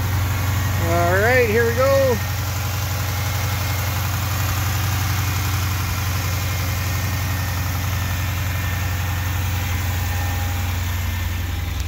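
A 2014 Dodge Challenger SRT engine idles with a steady, deep rumble throughout, after a brief spoken remark near the start.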